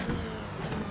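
A race car on the Magny-Cours circuit in iRacing brakes late into a tight right-hander, its engine note droning loud and close without pause for under a second.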